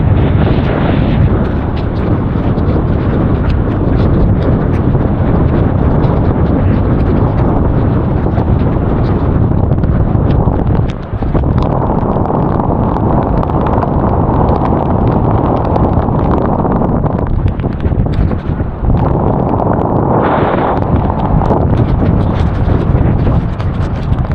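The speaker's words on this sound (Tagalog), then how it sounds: "Narinig yung hagop ng hangin talaga sobra." Strong typhoon wind gusts roar continuously and loudly across a coastal setting near the sea, a dense buffeting rush that swells and dips without pause and drowns out everything else.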